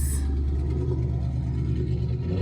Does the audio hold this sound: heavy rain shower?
no